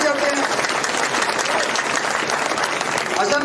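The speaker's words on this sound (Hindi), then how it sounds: "उनके लिए जोरदार तालियों से गड़गड़ाहट से स्वागत चाहते हैं।" A crowd at a Haryana election rally claps steadily and loudly for the whole stretch, a thick, even wash of applause with voices mixed in.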